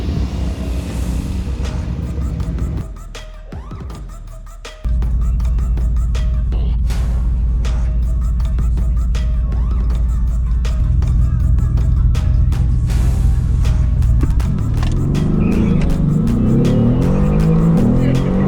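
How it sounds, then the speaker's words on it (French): A Porsche 911 Turbo and a Mercedes AMG GT-R race a half-mile from a rolling start, loud engine roar climbing through the gears, dipping briefly, then sustained high-revving drone as the cars speed past. "La Porsche 911 Turbo passe très vite après le rolling obligatoire suivi de la AMG GT-R."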